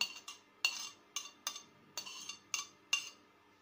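Egg mixed with chopped vegetables in a bowl, stirred by hand: a steady series of about nine sharp clinks and scrapes of a utensil against the bowl, close and clear, with no talk.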